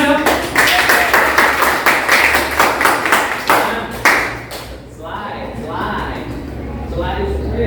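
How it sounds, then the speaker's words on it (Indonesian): A classroom group claps hands in a loud, close burst of sharp individual claps for about four seconds, then it thins out and gives way to speech. "Tepuk tangan dong."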